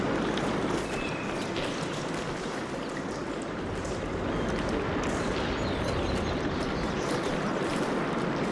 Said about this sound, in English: Get that water circulating.